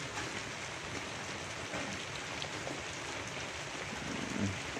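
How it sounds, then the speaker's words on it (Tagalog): Steady, soft hiss of rain falling on a farm, a continuous wash of fine patter with no voices, fairly quiet throughout. "Ngayon umuulan, kaya hindi tayo makapag-display."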